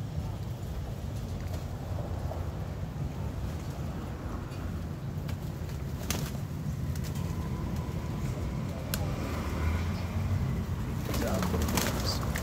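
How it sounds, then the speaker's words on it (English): Pigeons cooing and fluttering as they are fed outdoors, a steady low murmur of soft coos with occasional wing flaps and pecking noises, fairly close and continuous throughout. "Feeding my birds."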